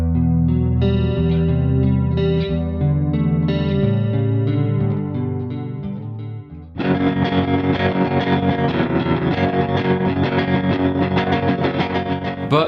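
Electric guitar played through the TONEX MAX pedal's built-in effects: clean chiming chords with chorus and reverb, then a loud distorted section of steady strummed chords from about seven seconds on, with no talk.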